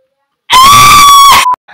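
A person imitates a bat's squeak with a sustained, piercing high-pitched squeal lasting about a second, loud and close, followed by a brief chirp.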